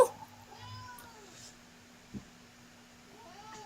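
A house cat meows several times, fairly close, with short rising and falling cries spread across a quiet room with a faint steady hum.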